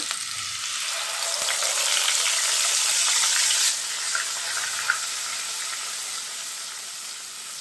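Onion, ginger and garlic paste frying in oil with cumin for a rohu fish belly curry, producing a loud, continuous sizzle that eases slightly partway through, with a faint utensil tap.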